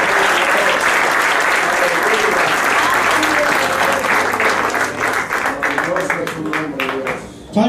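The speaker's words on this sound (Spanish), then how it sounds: "Demos un aplauso al Señor." A church congregation breaks into broad, continuous applause, loud and close, with some voices mixed underneath, thinning out and fading toward the end.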